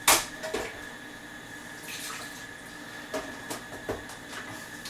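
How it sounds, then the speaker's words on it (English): Water is poured in a kitchen, a soft splashing stream with a few brief louder gushes, faint and close, with no voices. "Just a little water to make it interesting."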